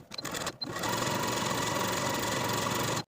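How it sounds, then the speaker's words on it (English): Close, loud sewing machine stitching along the edge of a fabric tie belt, a few brief starts followed by a steady, continuous mechanical whir that stops abruptly at the end. "now I'm going to sew all along the long raw edge and one short edge with a 1/2 inch seam allowance"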